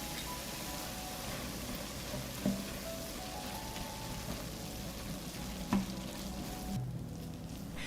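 Minced meat, about 500 grams, sizzling steadily in a hot pan, a soft continuous crackle with a couple of faint clicks, no talk.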